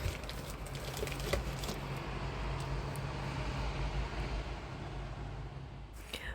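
A car drives along the road toward Bucha, a low, steady rumble of engine and tyre noise heard from inside the vehicle, faint and continuous with a few light knocks.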